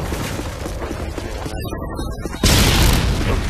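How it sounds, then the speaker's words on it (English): Game audio with a loud, deep predator missile explosion bursting in partway through and rumbling on after a stretch of muffled background noise and voices. "close to that explosion, that predator missile."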